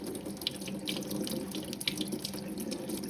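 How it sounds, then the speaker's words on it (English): A kitchen tap runs steadily into a sink while fruit is washed under it, a close continuous splashing stream with small uneven spatters and no talk. "Always remember to wash your fruits and vegetables very,"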